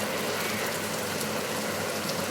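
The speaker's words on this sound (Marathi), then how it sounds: "पाऊस आलाय, पाऊस" Rain pours down steadily around a residential building at the start of the monsoon, a dense, unbroken wash of patter heard alone, fairly close and even in level.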